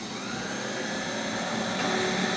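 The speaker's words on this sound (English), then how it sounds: "we're gonna turn our mixer on, or you can just use a wooden spoon to mix it together" An electric mixer runs steadily on white bread dough in a bowl, a loud continuous motor whir with a dense grinding texture, alone with no talking.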